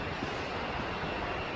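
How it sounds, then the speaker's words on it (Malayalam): Cicadas droning steadily beside flowing stream water at a rocky riverside spot in Nenmara, Palakkad, Kerala, a dense continuous hiss with no break and no voices. "ഇത് ചീവീടിന്റെ ശബ്ദം,"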